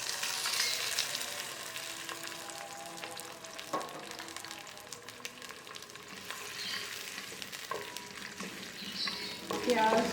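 Onions browning in olive oil in a pan, with a soft continuous sizzle and occasional scrape and clink of a spoon stirring, close and fairly quiet, no talking.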